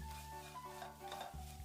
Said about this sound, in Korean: 멸치가 바삭이도록 볶아줍니다